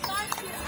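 A horse pulling a carriage on the streets of Bruges, Belgium, its hooves striking the pavement in a couple of quick clip-clops, heard close under people chatting.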